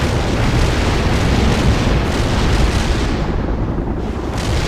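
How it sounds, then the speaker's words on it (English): Continuous heavy rumble of artillery explosions in the video game World in Conflict, loud and dense throughout with no clear gaps between blasts and no talk. "We have incoming artillery."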